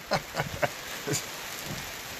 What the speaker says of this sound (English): Oh, looks like it's hailing again.